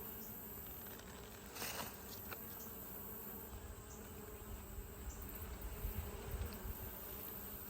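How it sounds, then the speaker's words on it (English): Honeybees buzzing around hive frames during a hive inspection, a soft continuous drone with a few passes close to the microphone, faint and steady and without voices. "These bees love building comb."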